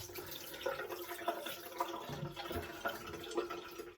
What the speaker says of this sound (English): Put a little bit of hot water across the blades.